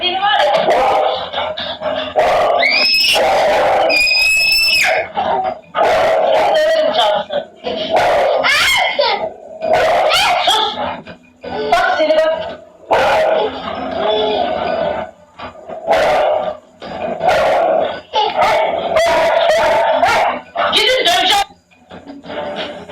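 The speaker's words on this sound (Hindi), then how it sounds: "कभी भौंकते हैं तो कभी माँ का हाथ पकड़कर बच्चे को मारने से रोकते हैं।" Dogs bark repeatedly in short bursts at close range, mixed with excited human voices, laughter and a child's cries throughout.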